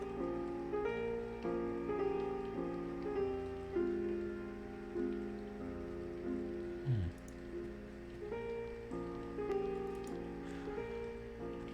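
Steady rain falling in a horror video game, a soft patter that sits beneath a droning, tonal musical backdrop, faint and continuous throughout with a brief low swoop near the middle.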